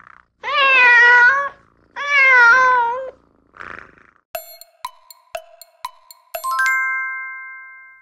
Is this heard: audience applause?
no